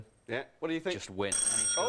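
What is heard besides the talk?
doorbell ringing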